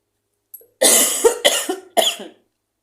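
A woman coughs close up, with a brief sound followed by three or four harsh coughs in quick succession and then silence.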